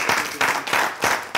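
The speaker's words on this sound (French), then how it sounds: "j'aimerais qu'on puisse applaudir Menteur" A studio audience at a French New Year talk show claps in rhythmic bursts of group applause, close and fairly loud, with no other sounds over it.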